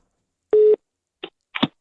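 A phone line gives a single steady electronic tone lasting about a quarter second, followed by brief faint clicks and fragments on the line.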